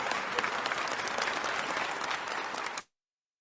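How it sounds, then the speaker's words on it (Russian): Steady crowd applause plays just after a rendition of Bella Ciao in an online chat broadcast. The clapping is fairly faint and even, then cuts off abruptly into silence. "Аплодисменты, друзья!"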